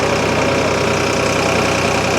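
A tractor engine, a 2511 model, idles with a low, even chugging rhythm, running continuously and fairly loud throughout.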